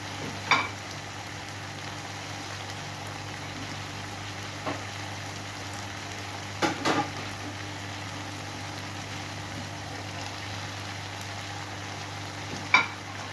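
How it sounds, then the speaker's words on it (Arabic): Potatoes and colored bell peppers fry in a pan with a steady, moderate sizzle, broken by a few brief clinks of stirring. "بقى نحط البطاطس والفلفل الالوان"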